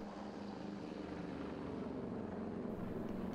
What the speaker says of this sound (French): Le C-725 est un hélicoptère aux performances en hausse